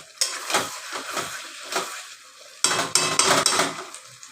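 Chicken stir-fried with shahi garam masala in a pan, heard as close, loud bursts of sizzling and utensil scraping, with a pause before a second run of vigorous stirring clatter.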